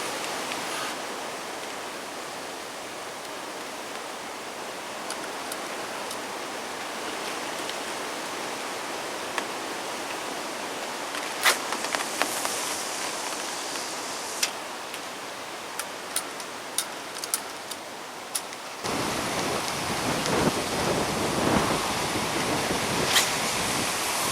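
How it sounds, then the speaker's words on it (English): Steady outdoor rain makes a dense, even hiss across the whole stretch at a lakeside gathering, with faint scattered ticks of drops, growing slightly louder and fuller toward the end. "it's just started raining again"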